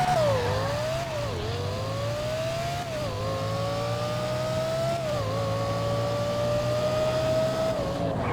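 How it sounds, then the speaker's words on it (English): A GTA 5 Emperor Sheava fitted with a Lexus LFA engine sound does a burnout, its high, sharp engine note held at steady revs for several seconds, dipping and climbing again in short swells, loud and close with no voices. "Get a burnout going"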